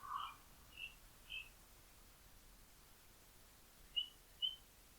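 A mockingbird outside a bedroom window mimics a cardinal's song: five short, bright whistled phrases spaced apart over a few seconds, moderately distant and clear against a quiet hiss, with no talking.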